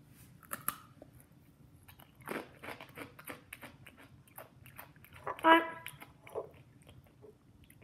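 Takis chips dipped in hot sauce are bitten and chewed in a few faint, scattered crunches in a quiet room, with a brief voice sound in between.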